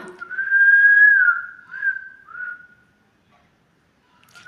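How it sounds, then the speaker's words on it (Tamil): A pet cockatiel whistles up close and clear: a long rising-and-falling whistled note followed by two shorter chirping phrases, then quiet with a faint final peep. "நல்ல விசில் அடிக்கும்."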